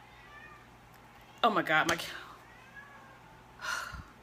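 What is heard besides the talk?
pet cat meowing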